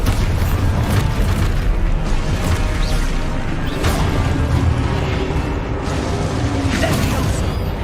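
Video game explosion spell (Exposo) bursting in a dense, loud battle mix, with heavy booms and crashes around 4 and 5.5 seconds over a constant roar of combat effects.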